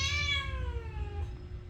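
A grumpy, irritable cat lets out a single drawn-out meow that slides downward in pitch, close and fairly loud, with low background rumble underneath.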